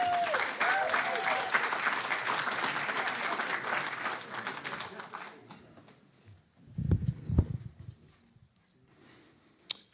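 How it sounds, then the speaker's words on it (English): Audience applause at a startup pitch competition, a dense burst of clapping that holds steady for several seconds, then fades out, followed by a few low thumps and faint movement. "Round of applause, folks."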